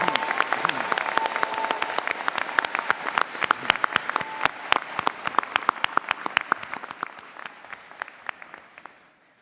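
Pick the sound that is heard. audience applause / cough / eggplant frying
audience applause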